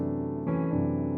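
A sustained minor seventh flat five (half-diminished) chord rings out alone on a keyboard, with a second chord change partway through, steady and clear.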